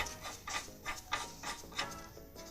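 A screw on a BMW E46 steering tie rod is tightened with a ratcheting tool, giving a steady series of close mechanical clicks about every third of a second.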